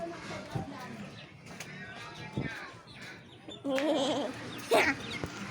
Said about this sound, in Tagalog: tingnan niyo yung mga manok. Kumakain ng manok.